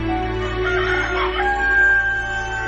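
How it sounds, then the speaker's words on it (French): A rooster crows once, loud and close, with a drawn-out call standing alone over a steady low background. "Aussitôt le coq chanta."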